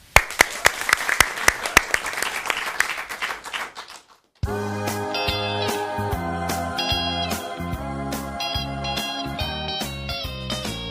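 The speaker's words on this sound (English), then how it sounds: "Please give him a round of applause in the studio." A television studio audience claps and cheers at a Christmas special, loud dense applause that fades out after about four seconds, followed by a band striking up.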